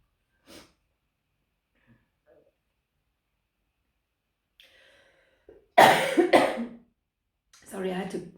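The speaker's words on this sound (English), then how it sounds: "had to cough." A person coughs and clears their throat indoors: a few sharp, close bursts in quick succession after near silence, then a breathy throat noise.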